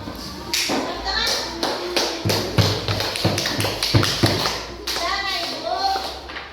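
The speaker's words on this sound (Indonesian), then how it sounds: "Tepuk tangan." Children clapping hands in a classroom coding lesson, a series of sharp uneven claps and taps close by, mixed with children's voices and chatter.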